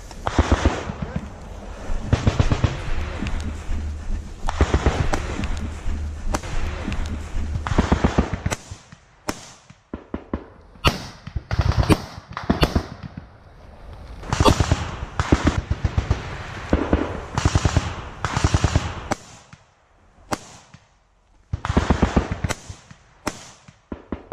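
Gunfire from US Army airborne infantry weapons during a field exercise in Latvia: loud, sharp cracks in dense, irregular bursts across the whole stretch, with a few brief quiet gaps and faint shouting in places.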